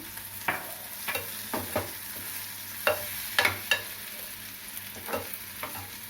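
A spoon scrapes and clacks at irregular intervals as chana masala curry is stirred in a pan, with a soft, low sizzle continuing underneath and no voices.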